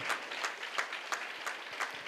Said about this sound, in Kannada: ಅವ್ರಿಗೊಂದು ಜೋರಾಗಿ ಚಪ್ಪಾಳೆ ಹೊಡಿಬೇಕು ಇಬ್ಬರು ಮಹಿಳೆಯರಿಗೆ